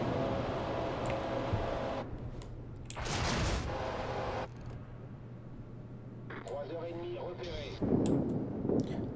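World of Warships naval battle: the Dunkerque's main guns fire salvos, heavy booming bursts that stand out over continuous game ambience while someone talks throughout.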